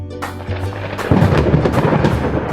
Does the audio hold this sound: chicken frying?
no